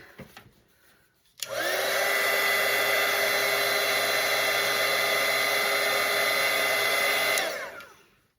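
A hair dryer dries a watercolour painting, switching on abruptly and blowing with a loud, steady whir for about six seconds before winding down.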